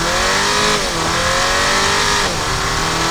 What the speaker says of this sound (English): I hold the brake, I rev up, and I let go of the brake